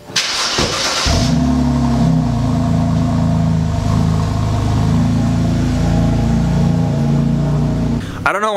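A manual hardtop drift project car starts up, then settles into a loud, steady engine idle and rumble close by, with a short burst of noise at the end.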